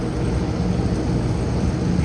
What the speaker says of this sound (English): looking at British Airways taxiing to the runway